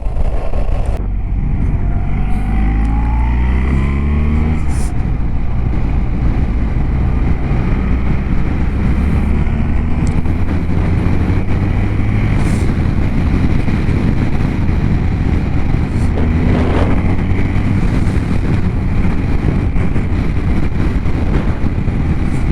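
A 2023 BMW R1300GS motorcycle cruising at 70 mph with the windscreen at its lowest, a steady roar of engine and heavy buffeting wind noise throughout, loud and continuous with a brief gear-like pitch sweep early on.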